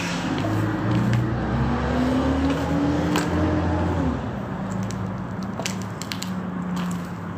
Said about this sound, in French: Il y a quand même beaucoup de circulation.